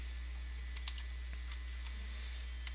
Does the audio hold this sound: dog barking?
no